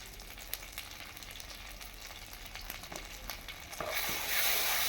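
Turmeric and sugar spice mix fries in oil for kolmi shak tel paturi, sizzling steadily while being stirred with scraping strokes. The sizzle swells louder and brighter toward the end, with no talk.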